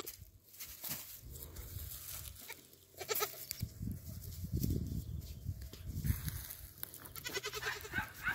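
Young goats out on grass bleat several times in short, wavering cries scattered through the scene, some near and some a little farther off, over a busy outdoor background of rustling and handling noise.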